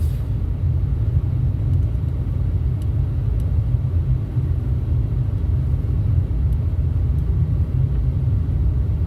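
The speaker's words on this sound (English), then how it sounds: "I don't know what this dump truck is doing on the walking path here" A dump truck rumbles along a walking path, a loud continuous low engine drone that holds steady and close the whole time.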